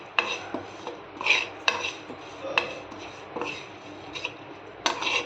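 Whole spices for garam masala stirred and dry-roasted in a pan, giving a steady dry rasping and scraping with light clinks of the spoon against the metal at irregular intervals, close and moderately quiet, no talking.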